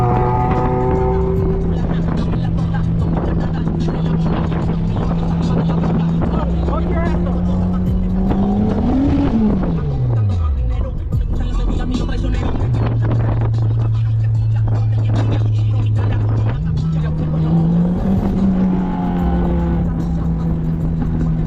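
Cars at a meet accelerating hard, loud engine drones rising and falling as they pull past, with a pitch sweep as one revs through and tire noise mixed in; voices talk over the engines throughout.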